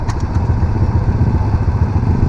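An ATV quad bike stuck in sand, its engine running with a steady rough mid-pitched drone and slight throttle surges, close and loud with no talk.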